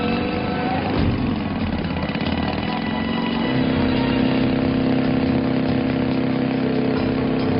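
A motorcycle engine runs steadily and loudly close by, a continuous idling drone with a slight shift in pitch partway through.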